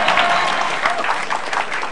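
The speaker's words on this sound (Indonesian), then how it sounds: "Ya, tepuk tangan buat kebohongannya." Audience applause at a stand-up comedy show, a dense steady wash of clapping filling the room for the full two seconds with a faint crowd murmur beneath.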